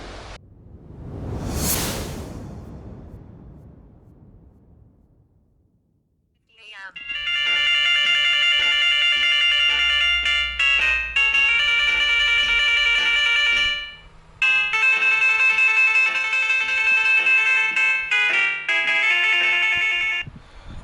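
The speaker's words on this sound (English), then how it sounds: "Well, the alarm went off." A morning alarm in a Vancouver Island beach-hiking setting rings out loud and steady as a repeating electronic melody for about fourteen seconds, with a short break partway through. A brief whooshing sound comes before it starts.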